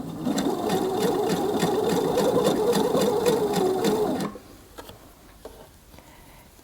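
A sewing machine stitches a dress seam with a loud, steady pulsing whir for about four seconds, then cuts off, leaving faint clicks and fabric handling.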